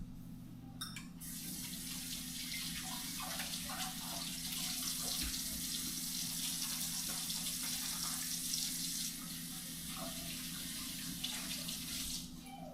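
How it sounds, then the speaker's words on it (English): A tap runs steadily into a sink while hands are washed, a continuous close splashing stream that starts abruptly and stops near the end, with faint rubbing and dripping inside the flow. "now I'm going to wash my hands"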